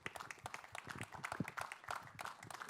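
A seated audience at an Indian MMA and wrestling talent-hunt press event applauds the director of the series; the clapping is fairly faint and scattered, with a voice speaking faintly over it.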